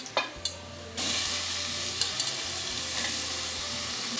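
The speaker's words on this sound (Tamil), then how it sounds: "காய் சேர்த்துட்டு நல்லா வதங்கட்டும்." Chopped vegetables and onions sauté in a pan for sambar, giving a steady, close sizzle with a few clinks of stirring against the pan at the start.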